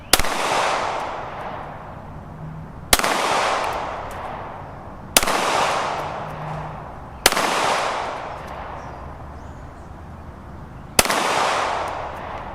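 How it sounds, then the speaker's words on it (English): Five loud, sharp handgun shots from a Ruger RXM at a shooting range, fired at uneven intervals of about two to four seconds, each crack followed by a short echoing decay with no talk between them. "This is my first time shooting a handgun."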